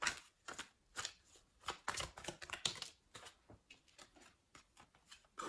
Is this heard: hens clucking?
no